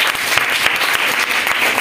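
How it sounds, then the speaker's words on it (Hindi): Students in a Hindi class clap loudly together in a classroom, a close, dense burst of many hands with a few sharper individual claps standing out, and no talking over it. "जोरदार तालियां एक बार।"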